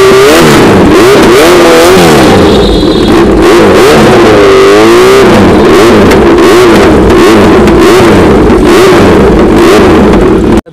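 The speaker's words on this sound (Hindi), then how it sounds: "फिर से इसके अंदर लगा दिया एससी प्रोजेक्ट का एक और एग्जॉस्ट" Superbike fitted with an SC Project exhaust silencer revs hard and loud up close, its deep blaring note repeatedly rising and falling in pitch for the whole stretch, with crackling throttle blips and no voices over it.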